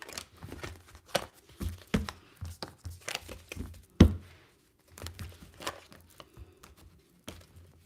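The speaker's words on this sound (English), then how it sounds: "We'll get 2 more good shuffles" Tarot cards being shuffled by hand, a run of soft riffling slaps and papery crinkles in uneven bursts with short pauses, close and fairly quiet.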